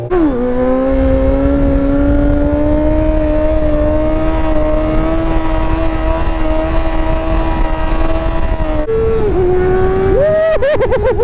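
A motorcycle engine revs hard and holds a loud, steady high-pitched whine during a ride, then drops off briefly before revving up again in quick bursts near the end.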